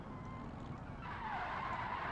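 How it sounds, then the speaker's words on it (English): Tires skid and squeal in BeamNG.drive, a steady broadband scrape with a rising whine in the second half, no crash impact evident. "That might be a crash"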